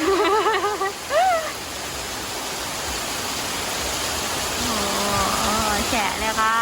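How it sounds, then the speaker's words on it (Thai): A downpour roars steadily at a national park campsite near a waterfall in Saraburi, Thailand, a thick, unbroken wash of rain close by, with people's voices heard briefly at the start and again near the end. "ฝนตกหนักเลยอ่ะ"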